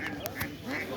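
Ducks quack in short, repeated bursts close by at a poultry market in Gurudaspur, Natore, over a steady crowd murmur.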